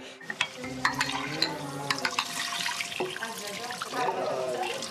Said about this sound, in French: Je vais juste nettoyer nos verres.